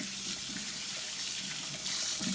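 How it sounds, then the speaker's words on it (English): Tap water runs steadily into a kitchen sink as hands are washed under it while baking scones at home, a continuous close splashing with small bursts where the hands break the stream. "Now I'm going to just give my hands a quick wash."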